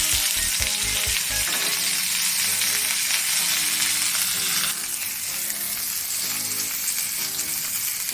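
Pre-boiled bitter gourd frying in a pan for a spicy bitter gourd dish, a loud, steady sizzle with a few stirring knocks at the start, continuing evenly throughout with no voices.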